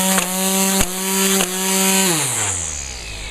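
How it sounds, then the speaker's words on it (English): Electric string trimmer whirring steadily with a high whine, its tone jumping sharply three times as the head is tapped to feed out more string, then winding down as the motor slows. "I'll do a little demonstration on just tapping it, just to feed the string, just like an ordinary gas trimmer"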